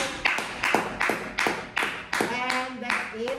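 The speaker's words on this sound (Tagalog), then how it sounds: "palakpak ka dyan!" Hands clap in a steady rhythm, about ten sharp claps, close and fairly quiet, with a voice briefly talking over the last few.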